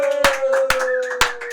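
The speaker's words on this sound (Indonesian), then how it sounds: "Tepuk tangan yang meriah untuk Liam Tahir Gallagher." A few sharp hand claps sound in a television studio, spaced about half a second apart, over a sustained steady tone.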